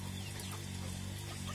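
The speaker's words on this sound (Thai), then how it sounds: "ห่านหัวสิงโต" Lionhead geese with wrinkled faces give scattered honking calls at a moderate distance over a steady low mechanical hum, with no talking.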